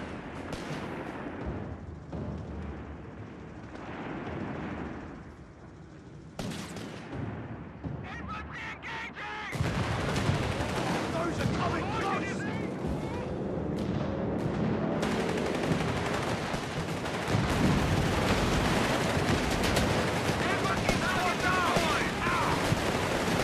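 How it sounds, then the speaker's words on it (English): A Company of Heroes 3 battle with an aerial bombardment: gunfire and machine-gun bursts rattle over rumbling explosions, growing louder and denser partway through, with voices shouting beneath the din. "Aerial bombardment incoming!"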